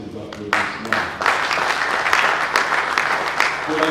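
Audience at a Protestant laity congress in Kongo-Central breaking into sustained, loud applause with many hands clapping together, the crowd noise swelling after a brief start and continuing steadily, with some voices mixed in.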